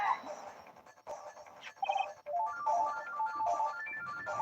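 An electronic phone ringtone plays a bright, repeating melodic tune during a courtroom scene in the Ace Attorney video game, fairly loud and steady, with voices over it.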